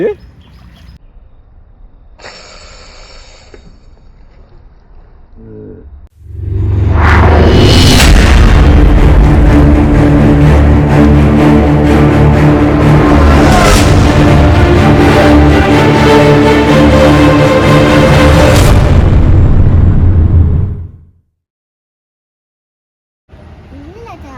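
A deep, muffled boom from an underwater firecracker erupts into a long churning roar of water lasting several seconds, preceded by faint voices and followed by quiet.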